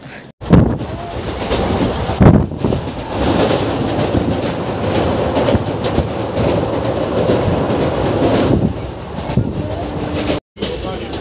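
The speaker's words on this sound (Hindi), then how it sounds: "हम इसी ट्रेन से सफर करने वाले हैं" Indian railway train running between Khagaria and Saharsa, a steady loud rumble with rhythmic clickety-clack of the wheels and some wind buffeting, continuing throughout.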